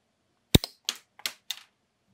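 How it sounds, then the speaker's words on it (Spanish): A LEGO Razor Crest microfighter toy's shooting mechanism fires in a quick series of sharp plastic clicks and snaps, four or five close, dry pops spaced unevenly across two seconds in otherwise quiet surroundings. "vais a ver cómo dispara apretando aquí"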